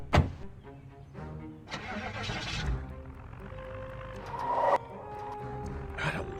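Car engine starting in the Project Zomboid video game: a sharp click, repeated cranking bursts, then the motor catches and settles into a steady mid-pitched idle, heard up close with a louder surge near the end.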